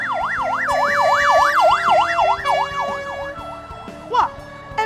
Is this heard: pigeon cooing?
no